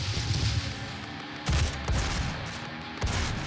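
Missile launcher fire in DOOM (2016) lands as a few heavy booming blasts, spaced roughly a second and a half apart, over a steady rumbling game background with no talking.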